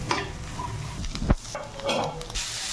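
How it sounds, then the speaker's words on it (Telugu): Cabbage fries in a pan for homemade egg fried rice, with quick spatula scrapes and clinks against the metal over a low sizzle, close by and with no one speaking. "ఇప్పుడు దీన్ని కొంచెం బాగా ఫ్రై చేసుకోవాలి."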